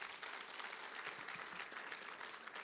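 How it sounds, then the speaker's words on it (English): Audience applause at a pitching booster campaign event in Ekurhuleni, steady dense clapping from a crowd filling the room, loud and sustained without talk over it. "Can we please give a round of applause once more?"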